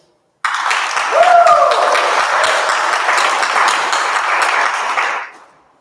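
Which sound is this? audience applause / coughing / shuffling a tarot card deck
audience applause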